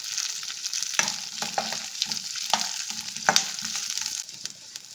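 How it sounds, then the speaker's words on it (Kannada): Cinnamon, cloves, ginger and garlic fry in hot oil while being stirred, making a continuous sizzle with repeated spoon scrapes and clinks against the pan. "ಚಕ್ಕೆ, ಲವಂಗ, ಶುಂಠಿ ಮತ್ತು ಬೆಳ್ಳುಳ್ಳಿ ಹಾಕಿ ಸ್ವಲ್ಪ ಫ್ರೈ ಮಾಡ್ಕೊಂಬಿಡೋಣ ಕೆಂಪಿಗೆ"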